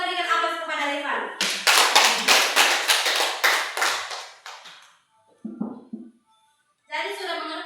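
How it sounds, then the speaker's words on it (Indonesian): A class of schoolchildren claps together for a classmate, a burst of quick rhythmic hand claps that fades out, with a voice speaking before and after. "kita berikan aplaus kepada Rifan"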